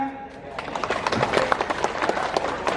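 A crowd applauds at an Indonesian political campaign speech, dense clapping sustained throughout with scattered whoops and voices mixed in.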